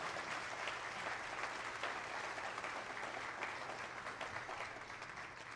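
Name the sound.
audience applauding at ceremony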